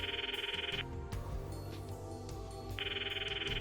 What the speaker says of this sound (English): The ringtone echoes in my ears. It's not connecting.